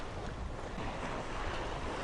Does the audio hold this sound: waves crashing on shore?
yes